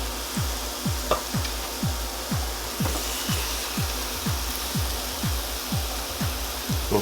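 Butterflied chicken legs sizzle on a Chefman indoor grill, a steady frying hiss overlaid with a regular series of soft rhythmic thumps, close and moderately loud with no talking.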